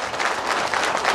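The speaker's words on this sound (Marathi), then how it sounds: "सगळ्यांनी भाऊचं जोरदार टाळ्या वाजून एकदा कौतुक करा" Audience at a village gathering in Pusesavali, Maharashtra, applauding together, a dense steady wash of clapping throughout the short moment with no talk over it.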